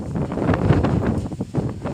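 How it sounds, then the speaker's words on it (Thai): Dry, cold wind blows across an outdoor vegetable garden, buffeting the microphone with a continuous gusty rumble and rustle that stays fairly loud throughout, with no talking. "ลมแห้งลมหนาว"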